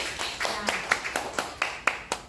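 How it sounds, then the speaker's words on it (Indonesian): A small group of teachers claps in a loose, fairly regular rhythm of about ten distinct claps, close by and moderately loud, with faint voices underneath. "Terima kasih untuk Bu Siska, tepuk tangan dulu."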